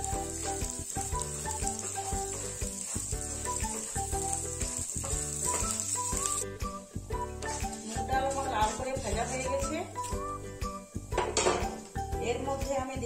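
Moong dal fried and stirred in a pan gives a continuous sizzle with repeated metallic scraping and clinks of a spatula, under background music.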